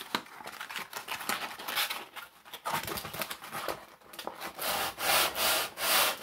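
A piece of wood is sanded by hand with 100 grit sandpaper in rhythmic, scratchy rubbing strokes that grow steadier and more regular toward the end, close up with no talk.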